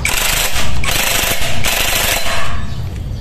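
An impact wrench tightens a nut on the CVT of a Honda Click 125i scooter, hammering in loud, rattling bursts with short pauses between them, close and alone.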